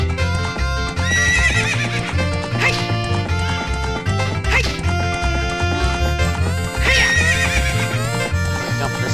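Epona the horse ridden in The Legend of Zelda: Ocarina of Time, with rhythmic clip-clop hoofbeats and several loud neighs over game music, while someone talks.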